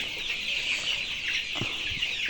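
Sonali colour-bird chickens on a poultry farm, a flock suffering from enteritis, cluck softly and steadily close by, with a few sharper calls over a constant background hiss.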